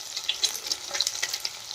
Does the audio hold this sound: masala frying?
yes